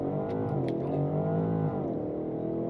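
A 2026 Alpina XB7, a heavy 6,000-pound luxury SUV, launching hard from a standstill under launch control, its engine note a steady, loud, rising drone heard from inside the cabin.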